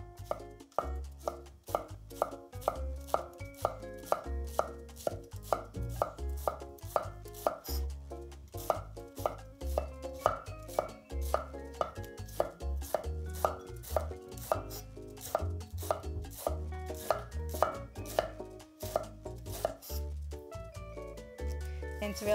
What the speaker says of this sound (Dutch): met dat mooie, grote, scherpe mes ga je van hele mooie, dunne, ragfijne reepjes snijden